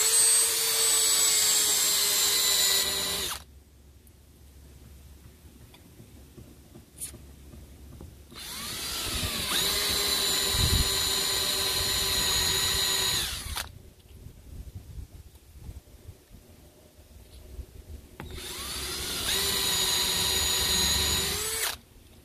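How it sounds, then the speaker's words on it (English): A router fitted with an edge trim bit cuts out holes in plexiglass for a backlit arcade control panel, giving three long, loud, high whining bursts of several seconds each, separated by quiet pauses, with no voices. "I will put the riding edge trim bit on my router, and I will just ride the holes that I have here"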